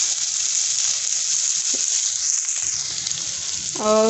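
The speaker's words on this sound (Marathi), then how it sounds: "कांदा आता व्यवस्थित छान परतलेला आहे" Onions fry in a pan with a little salt, giving a loud, steady, close sizzle with no letup and a brief clink near the end.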